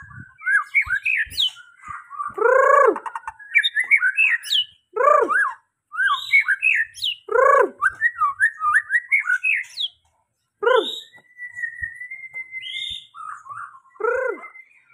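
A murai batu (white-rumped shama) sings close and clear in varied bursts of whistles, chirps and rich rising notes, with short gaps and one long steady whistle, over a quiet background.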